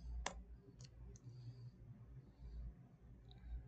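Computer mouse clicked while working in MATLAB software: three faint, sharp, sparse clicks over a quiet room hum, with no talking.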